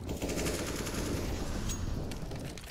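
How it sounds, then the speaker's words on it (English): AK-47 automatic rifle fire in a Counter-Strike: Global Offensive esports match on the Train map, a loud, dense burst of rapid gunshots running continuously with a sharp crack near the end. "Dragonfly connects with the AK-47. Gets the double."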